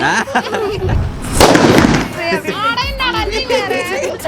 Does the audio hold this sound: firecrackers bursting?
yes